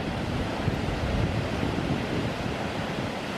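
Sambuyeon waterfall in Cheorwon, water falling through a carved granite gorge, gives a steady, dense roar that holds even and close throughout with no pauses.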